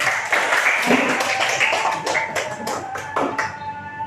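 Brief applause from a small group of students in a classroom, scattered claps fading unevenly over a few seconds, fairly close with a room echo.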